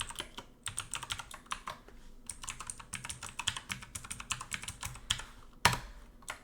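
Password typed on a computer keyboard, a quick uneven run of close key clicks and taps in short bursts, ending with a firmer keystroke, no voices over it.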